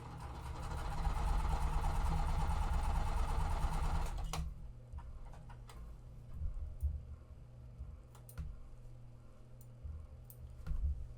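A sewing machine stitches quilt pieces in a loud steady whir for about four seconds, then stops, followed by soft handling clicks and light rustling of fabric.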